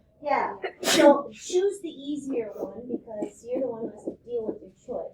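One sharp sneeze bursts out close to the microphone near the start, amid a classroom math lesson, with a teacher talking continuously before and after it.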